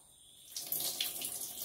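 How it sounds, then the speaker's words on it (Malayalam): Water poured off cooked pasta in a kitchen, starting as a quiet background hum and then a steady, splashing rush of draining liquid that continues to the end, nearby and moderately loud. "നിങ്ങളാ വെള്ളം ഊറ്റട്ടടാ പൊട്ട."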